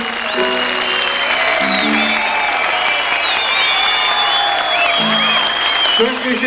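An audience applauds at a 1997 Turkish folklore gala evening, a steady wash of clapping throughout while music with whistling tones and short sustained notes plays over it.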